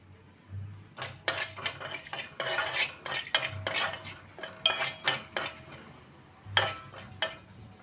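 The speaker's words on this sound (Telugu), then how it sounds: "ఒక 2 స్పూన్ల ధనియాలు వేసుకుందాం." Two spoons of coriander seeds in hot oil, heard mostly as a metal spoon clinking and scraping against the pan in irregular bursts, with only a faint sizzle beneath, close and without talk.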